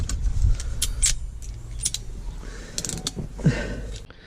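Wire being twisted and pushed into a metal lug while fitting a dash cam in a car, close-up small metallic clicks, scrapes and rattles in short irregular bursts, with no talking.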